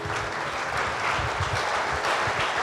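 A church congregation claps together in steady, dense applause that holds at an even level the whole way through, with no voices rising above it.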